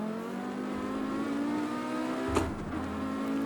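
An Audi Quattro rally car powers out of a corner at the Nurburgring, with a loud, close engine note rising in pitch and a brief sharp thump midway before the revs climb again.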